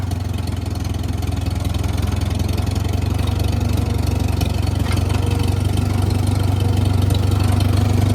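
A Farmall tractor engine runs steadily in third gear, a loud, continuous low rumble with a faint knocking texture that holds constant throughout, with no talking.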